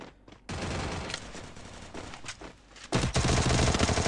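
Automatic gunfire in a video game shootout, rapid loud bursts of shots in repeated volleys with brief pauses, close and dense throughout.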